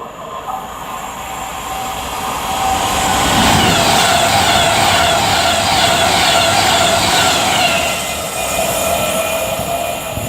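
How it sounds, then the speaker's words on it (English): Avanti West Coast Class 390 electric train, 390047, pulling into a platform at Nuneaton on a Glasgow Central to London Euston service, with a steady rising rumble, rolling wheel noise and high squealing tones that hold loud and close throughout. "now approaching will be 390047 for Avanti West Coast, working 1 Mike 15 from Glasgow Central down to London Euston"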